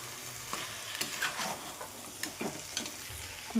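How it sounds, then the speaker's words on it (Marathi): Ingredients for paneer masala pulao fry gently in a pan with a soft, continuous sizzle, while a spatula stirs and scrapes in several short strokes up close. "व्यवस्थित आपण हळूवारपणे याला फ्राय करून घेणार 2 मिनिटासाठी."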